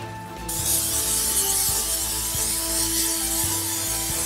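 A continuous pressurized hiss from a cooking oil spray can, starting abruptly and holding steady for several seconds over a low mechanical hum.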